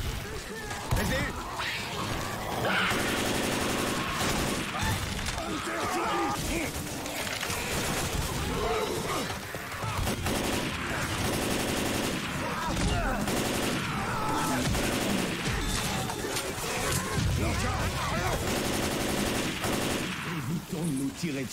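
Repeated bursts of automatic gunfire in the zombie shooter Left 4 Dead 2, sharp and loud, with pauses between volleys over about twenty seconds, and players' voices talking over the shooting.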